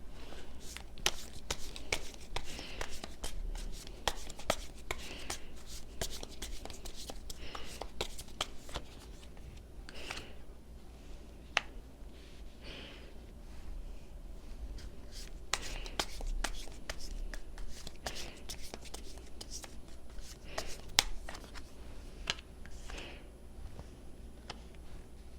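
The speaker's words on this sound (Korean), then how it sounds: "좋은 카드 좀 뽑아볼게요" Tarot cards being shuffled and drawn by hand, a long run of crisp riffling and flicking bursts with soft pauses between, close and steady, no voice.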